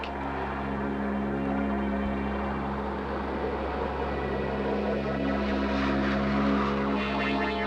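A loud, steady roar of Concorde jet engines running, a continuous whine with a low rumble that holds throughout without pause.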